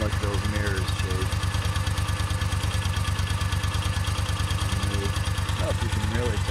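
A Moto Guzzi Nevada 750 motorcycle idles steadily close by, its low engine pulse beating in an even, rapid rhythm throughout, with faint mechanical rattle and vibration riding on top.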